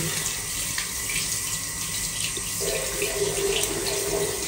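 Water runs steadily from a tap as hands are washed at a sink in a staycation hotel room, a continuous close splashing hiss with a brief change in the flow partway through.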